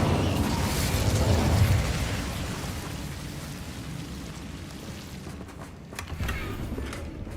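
The Incendio fire spell is cast in Hogwarts Legacy, giving a loud, sustained fiery roar that slowly fades, with a few small crackling pops near the end.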